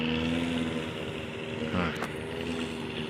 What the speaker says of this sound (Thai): นี่ไปละไปละ เป็นเรือหางยาวทุกคน